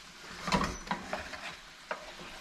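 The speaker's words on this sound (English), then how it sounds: "Mix your ingredients together." Apples with brown sugar are stirred in a pan, giving a few soft scraping strokes and light sizzle bursts, quiet and close, with no talking.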